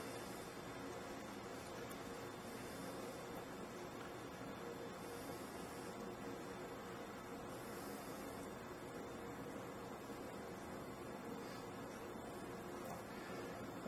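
A stand mixer kneads sourdough bread dough, giving a faint, steady motor drone that holds evenly throughout with no voices.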